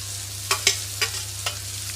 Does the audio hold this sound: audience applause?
no